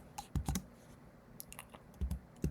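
Python code being typed on a computer keyboard: a few sparse, close key clicks in small clusters separated by brief pauses, crisp and alone with no talking.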